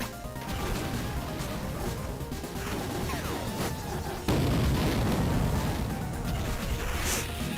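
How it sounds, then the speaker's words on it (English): A bomb blows up inside a mech's cockpit in a mecha piloting game, with crashing, rumbling impacts followed by a sudden loud blast near the middle that keeps roaring heavily afterward. "So you can't actually let the bombs go off in the cockpit."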